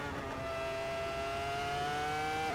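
A Ferrari F2004 Formula One car in Assetto Corsa engine-braking in seventh gear, a steady high whining engine tone with harmonic layers sliding slightly upward, continuous and loud with no talk.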